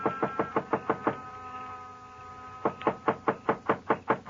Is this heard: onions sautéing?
no